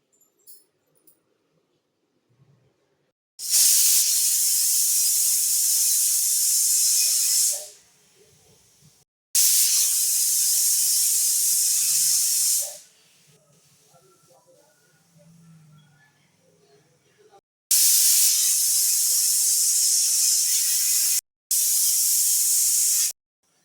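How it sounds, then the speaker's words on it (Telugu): A pressure cooker with tomato dal inside releasing steam in loud, sustained hissing bursts, four of them lasting a few seconds each and separated by near-silent gaps. "కుక్కర్ మూత పెట్టేసుకొని 12 విజిల్స్ వచ్చాక చూపిస్తాను"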